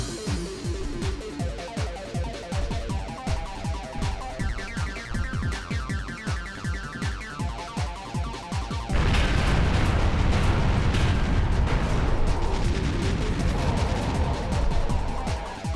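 Turrets fire in the One Must Fall Battlegrounds video game: a rapid run of loud, regular gunfire thumps gives way to a dense, continuous roar of blasts and explosions.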